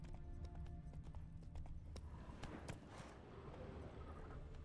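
Horse hooves clip-clop at a steady trot on a hard surface in The Witcher 3, a quick rhythmic beat at moderate distance over a low ambient bed.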